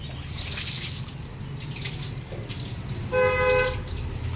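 A black cow named Kalu being bathed outdoors: continuous splashing and trickling water close by, with a brief tonal squeak near the end.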